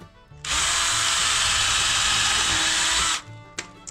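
A power drill bit boring into soft wood with a light push, a steady loud whir lasting about three seconds from a close position before cutting off, with a few small knocks after.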